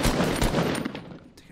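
Rapid gunfire from a first-person shooter video game, dense overlapping shots filling a short burst that fades toward the end.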